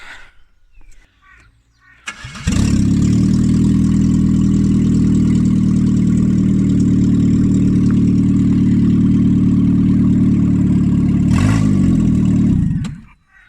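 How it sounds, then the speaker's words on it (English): A loud Vauxhall Corsa B engine without exhaust starts with a burst, then roars steadily and harshly for about ten seconds before cutting off abruptly. "it just won't be a proper video without starting it with no exhaust"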